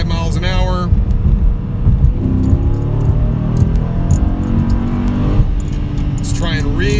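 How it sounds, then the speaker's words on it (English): A Dodge Charger Scat Pack pulls hard in third gear from about 45 mph with the tires gripping, a loud sustained engine roar climbing in pitch up close, while someone talks over it at the start and end. "It's trying really hard to break the tires loose, but it doesn't break them loose"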